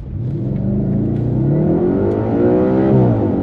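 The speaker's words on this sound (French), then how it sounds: "On fait un départ arrêté. Gaz." A 2013 Audi RS4 with a naturally aspirated V8 pulls away from a standing start, its loud engine note rising steadily and smoothly over several seconds, heard close from inside the car with no talking.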